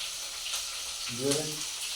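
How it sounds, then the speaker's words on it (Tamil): Onions and green chillies sauté in a hot pan in a home kitchen, giving a close, steady sizzle and crackle that swells briefly with a burst of stirring before settling back. "வெங்காயம் பச்சை மிளகாய் வதக்கி வெறுப்பு போடுறோம்"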